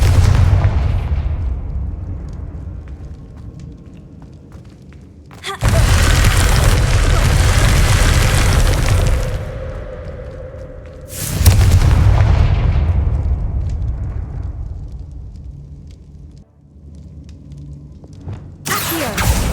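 Confringo spell blasts in the Hogwarts Legacy video game, heavy booming explosions erupting in two loud bursts with rumbling tails, then a third blast starting at the end.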